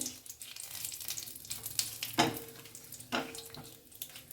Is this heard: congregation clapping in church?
no